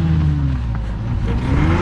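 A stuck vehicle's engine revs steadily with a rising whine as its tyres spin in place, loud and close throughout with no talk.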